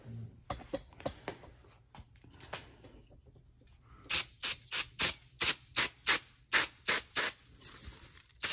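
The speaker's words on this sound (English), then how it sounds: "Let's spray him off." A run of sharp, evenly spaced bursts of cleaner sprayed onto a Cub Cadet 129 carburetor part, about a dozen quick hisses in a steady rhythm, following some softer handling noises.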